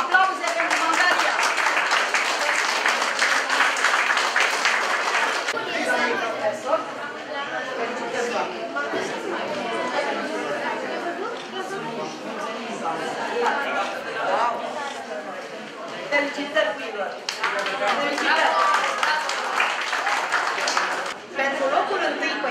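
Applause and cheering at a school chess tournament awards ceremony for the winning team, dense clapping with crowd chatter throughout, swelling again near the end, with a voice speaking over it.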